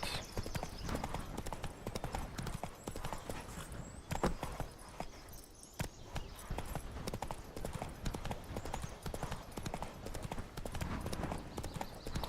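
Horse hooves clip-clop at a steady riding pace on the road to Novigrad in The Witcher 3, a continuous rhythmic beat of close hoofbeats that runs the whole way with no break.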